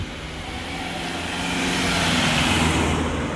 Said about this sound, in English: Let the car come through.